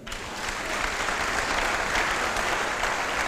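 A church congregation applauding, dense steady clapping from many hands filling the room at a loud, even level throughout, with no speech over it.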